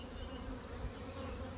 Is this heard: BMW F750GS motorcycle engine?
no